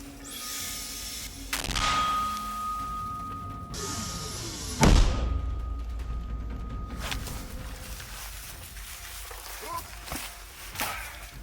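One deep, heavy boom of a 120 mm mortar firing lands midway, loud and close, amid outdoor rustling and distant voices.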